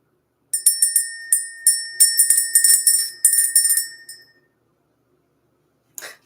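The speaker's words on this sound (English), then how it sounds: "Let's go ahead and ring this bell." A small bell is rung in quick clusters of bright metallic dings for a few seconds, then falls silent before a final faint jingle; no voices.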